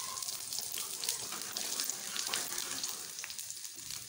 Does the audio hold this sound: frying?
yes